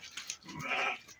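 Female lambs of the Arashan breed bleat close by in a short burst, a nasal wavering cry rising out of a few quieter calls.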